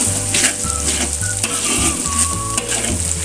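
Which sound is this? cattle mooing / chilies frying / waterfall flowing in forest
chilies frying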